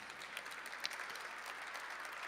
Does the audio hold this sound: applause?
yes